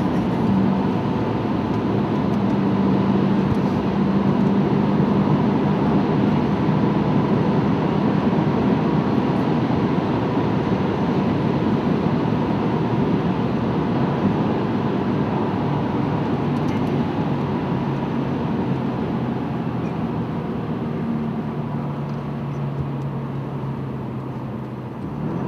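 A Jaguar XF lapping the Nürburgring, its engine a steady sustained drone with a slowly shifting pitch and a constant road rumble, loud and unbroken throughout, with no talk.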